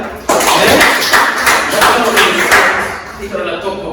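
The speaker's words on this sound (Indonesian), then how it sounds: "Ya, tepuk tangan dia." Students in a classroom clap for a classmate who answered correctly, a burst of loud, close, uneven clapping that starts abruptly and tapers off after a few seconds, with voices mixed in.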